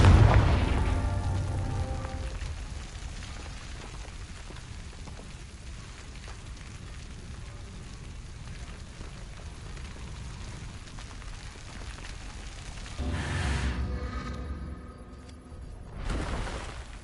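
A Confringo fire spell blast in the video game Hogwarts Legacy: a loud booming burst at the start, a quieter rumbling stretch, then a second explosive boom near the end.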